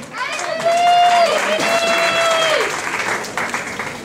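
At the Miss Saint Denis 2014 pageant, the audience applauds a candidate with steady clapping, while a loud sustained cheer or whoop rises over it early on before the clapping tapers off.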